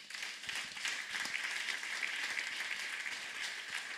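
A church congregation applauds steadily, a dense wash of clapping with faint cheering that holds evenly throughout without pause.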